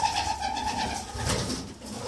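Young racing pigeons coo inside a loft, soft rolling calls close by and fairly steady, with a faint background hum and no talking.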